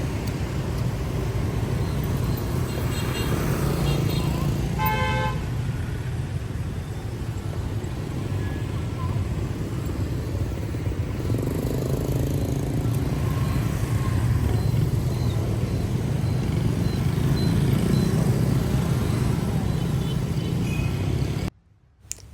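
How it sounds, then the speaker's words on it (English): Dense street traffic in Hanoi, Vietnam, a steady roar of engines and motorbikes passing close by, with a short burst of horn honking early on and continuous roadway noise throughout. "this is a short clip to show you how crazy the traffic is in Vietnam"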